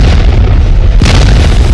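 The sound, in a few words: bomb explosion from US airstrike on Taliban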